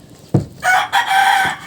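A chicken gives a brief sharp cluck, then a loud, drawn-out squawking call close by, with no talking.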